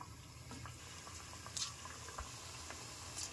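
Onion bajji batter dropped into hot oil fizzes in a steady, faint sizzle that runs throughout, with a few small crackling pops near the end.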